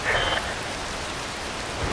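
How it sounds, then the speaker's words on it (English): Rain in the video game Metal Gear Rising: Revengeance pours as a steady, dense hiss, with a brief higher tone near the start and nobody speaking. "Wind blows, rain falls."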